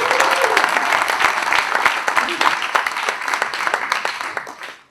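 A crowd of more than 100 people applauding guests at a live event, dense steady clapping that holds strong for several seconds before tapering off at the end.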